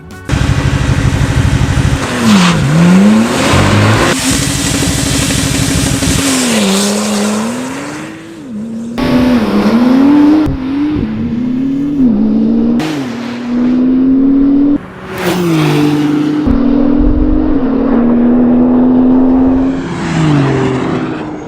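A Porsche racing in Need for Speed Rivals roars loudly and continuously, its engine revving up and down through gear changes, with brief cuts and tire squeal between pulls and no voices.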